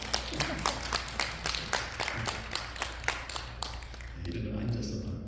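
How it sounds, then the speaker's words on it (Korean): Women of a church congregation clap together at a Sunday service, a dense run of sharp, evenly spaced claps rising over room murmur before fading near the end into quieter hall noise. "여성분들만 크게 박수를 보내주시면 감사하겠습니다."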